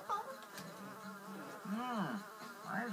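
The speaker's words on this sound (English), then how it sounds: "Why does that fly suddenly look so tasty?" In The Emperor's New Groove video game, a fly buzzes close by, its whining drone swooping up and down in pitch as it circles, faint but continuous and alone, with no talking.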